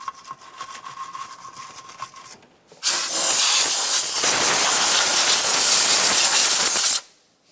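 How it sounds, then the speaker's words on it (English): Compressed air blowing around the engine of a 1994-2002 Dodge Ram 2500, a loud steady hiss lasting about four seconds before cutting off, preceded by quieter scraping from a small wire brush. "I'll use a small wire brush for this and some compressed air."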